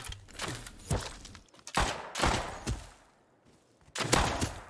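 Revolver shots in Rust, four or five separate loud bangs fired at irregular intervals with short gaps of quiet and soft thuds between them.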